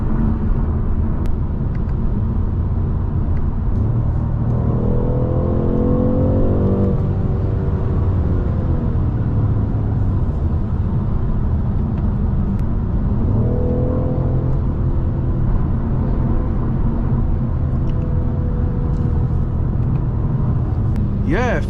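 A BMW M550i fitted with a Dinan throttle response booster accelerates in two strong surges of rising engine note over a steady road rumble inside the car, with a voice present.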